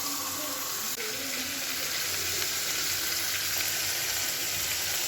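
Turmeric-and-oil-coated chicken sizzles steadily after being added to onions already fried deep red, giving a continuous close, loud hiss with faint stirring and no speech.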